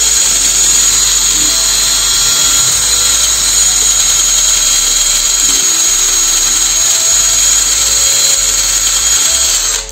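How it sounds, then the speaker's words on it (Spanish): Power drill spinning a cleaning attachment on Ford Falcon rocker arm shaft parts, a loud, steady high-pitched whine running continuously and cutting off at the very end. "También para limpiarlos un poquito, lo que hice fue pasarle el taladro."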